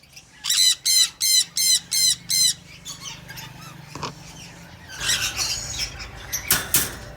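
A breeder pair of ringneck parrots calling: six loud, evenly spaced squawks open the sequence, followed by softer chattering and a final burst of shrill, overlapping calls, all close by.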